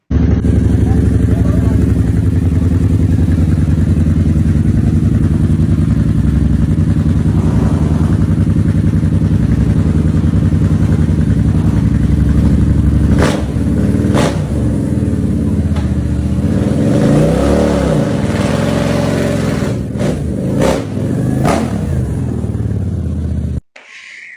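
A Harley-Davidson V-Rod motorcycle engine runs loud and steady at close range, building through several sharp revs and blips partway through, with speech faintly under it.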